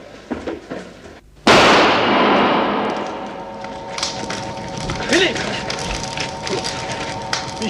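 A single sharp gunshot bursts out close and loud, its blast decaying over a couple of seconds amid scuffling, footsteps and faint background voices.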